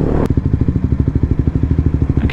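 A Ford ST car engine idles and revs on the road with a rapid, pulsing rumble, loud and close, after a brief sharp sound at the start.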